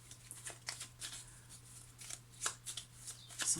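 Tarot cards being shuffled by hand during a reading, a series of soft riffling and sliding bursts close up, irregular and fairly quiet over a faint steady hum.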